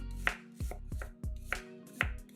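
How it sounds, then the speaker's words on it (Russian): A kitchen knife chops prepared tomatoes into half-rounds on a cutting board, giving about six crisp, evenly spaced thuds, close and fairly quiet, with no talk. "Подготовленные помидоры нарезаем полукружочками."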